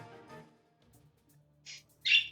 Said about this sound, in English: Little loud bird.